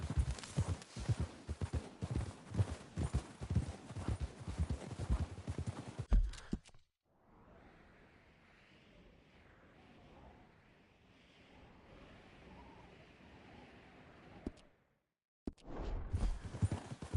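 Horses' hooves clop in Red Dead Redemption 2 in a quick, steady rhythm. The clopping falls away to a soft, wind-like ambience for several seconds, then resumes near the end.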